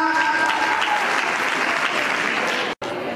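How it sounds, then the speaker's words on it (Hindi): Steady, dense applause from an audience at a talent award ceremony, loud and continuous, with a faint tone underneath and a brief cut near the end. "तालियां।"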